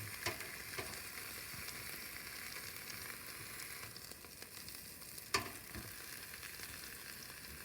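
Brat patties sizzle steadily inside a Cosori air fryer, a continuous hiss at moderate level with a single sharp crackle partway through; no one talks.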